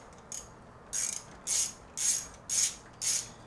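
Grub screws being unscrewed from a lathe spindle: five or six short, evenly spaced ratcheting bursts, close and crisp over faint background hiss.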